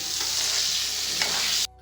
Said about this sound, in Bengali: ওই যে আলুগুলো এখন হাতে তুলে নিচ্ছে, আর একবার ভেজে নিচ্ছে